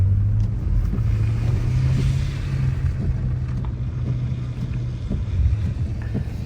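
A BMW M5 Competition rumbles steadily through a U-turn on snow, its low engine drone close and continuous with faint wind and a slight swell midway.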